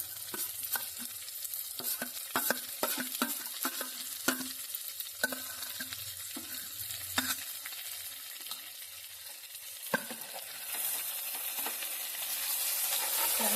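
Brinjal frying with onion masala in a pan over a slow flame, a steady soft sizzle broken by irregular scraping stirs and clacks of a spatula, with the frying hiss swelling louder toward the end.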